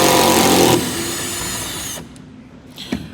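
A DeWalt power drill drives a fastener for a bed light fitting on a Ford F150 pickup: a short whirring burst that drops to a lower hum and cuts off, followed by a faint click.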